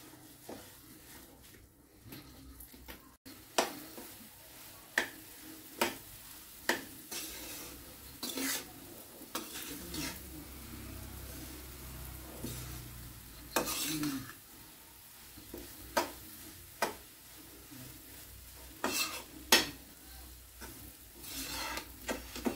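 Semolina (suji) roasting in a pan for halwa, quiet dry rustling with frequent sharp taps and scrapes of a spoon against the pan, spread irregularly and up close, no talk.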